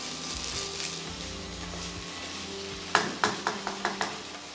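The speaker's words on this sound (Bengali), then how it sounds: "ততক্ষণ কষান যতক্ষণ না পেঁয়াজ আদার কাঁচা গন্ধ চলে যাবে" Onion and ginger paste sautéing in a pan gives a soft steady sizzle, then a series of sharp spatula clinks and scrapes against the metal arrive in quick succession near the end.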